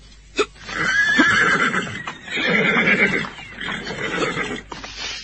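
A horse whinnies loudly and at length as riders dismount: a long, shaky, rising and falling neigh broken by short pauses and snorts, close and alone.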